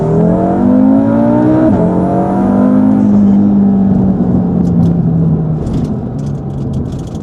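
Car fitted with an Iroz Motorsport hybrid turbo on a stock engine, launching on rolling anti-lag: loud sustained engine roar that climbs in pitch, dips, then carries on strongly, with sharp crackling pops near the end.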